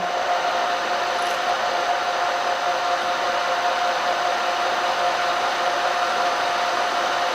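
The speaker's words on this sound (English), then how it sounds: "drill straight down" An electric drill whines steadily and loudly while boring straight down into a metal driveshaft, a constant high hum that never lets up.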